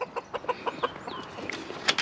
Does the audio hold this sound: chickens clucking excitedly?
yes